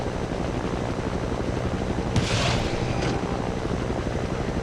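Helicopter flying in the video game Battlefield 2, a steady rotor and engine drone with a brief burst of sharper noise partway through and no voices.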